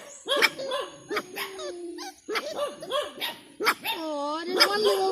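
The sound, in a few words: puppy barking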